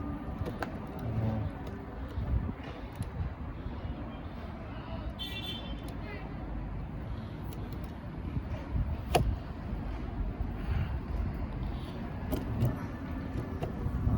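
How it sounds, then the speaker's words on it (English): Several vehicles moving along a road nearby, a steady roadway hum with occasional louder passes and a brief horn toot, pigeons cooing faintly in the background. "A few vehicles all around."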